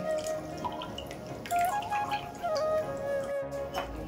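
Cold water splashes and drips over fresh chhana (cottage cheese) being rinsed by hand, a steady close wet trickle with small irregular drops throughout.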